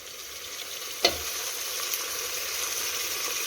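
Oil sizzles steadily in a tempering pan, with a single sharp splash-like burst as tomatoes drop in, then continued frying crackle.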